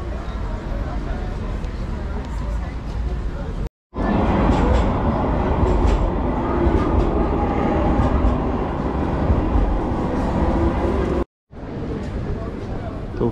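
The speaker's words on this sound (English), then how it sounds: "The tram that keep going one by one all the time." A tram rumbles past close by on a street in Istanbul near the Blue Mosque, with a loud, steady rolling roar and some metallic clatter, cut by two brief gaps.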